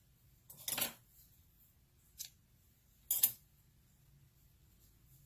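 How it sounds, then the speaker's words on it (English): Scissors snip through white yarn in a quiet room, three short crisp cuts close to the ear, the middle one briefer, with near silence between them. "Let's cut our white yarn."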